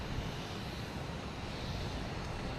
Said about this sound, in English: So we have JetBlue jets